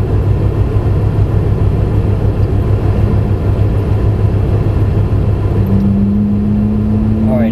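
A Ferrari sports car on an exotic driving experience runs with a loud, steady engine drone and road rumble close by, and a voice speaks briefly near the end.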